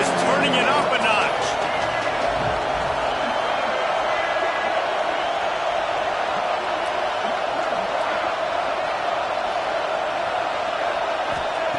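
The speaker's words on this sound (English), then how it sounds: "this crowd is turning it up a notch" A football stadium crowd roars steadily and loudly, a dense sustained wash of voices that swells slightly early on, while a commentator talks over it.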